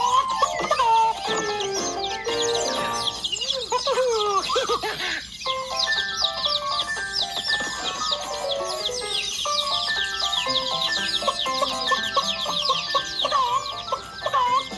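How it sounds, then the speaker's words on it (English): Cartoon hen and her six chicks on a farm cluck and peep busily and continuously, a loud dense chorus of clucks and high chirps over background music. "Tracy the hen, and her 6 chicks."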